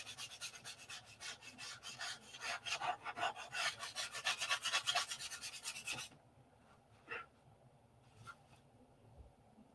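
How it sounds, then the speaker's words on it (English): A P-47 model airplane being hand sanded with fast, rhythmic rasping strokes that run steadily for about six seconds before dropping to a few quieter scrapes; close up, with no talking. "a little hand sanding here and get the flaps out of it"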